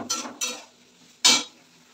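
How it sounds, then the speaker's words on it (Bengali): Carrots, capsicum and beans are stirred in a pan while cooking pasta at home, giving three sharp clattering scrapes of utensil against pan, loud and close, with quieter gaps between them. "দেখো গাজরগুলো হালকা ভাজা হয়ে গেছে, এবার ক্যাপসিকামটা দিয়ে দিলাম আর বিনসটাও দিয়ে দিলাম।"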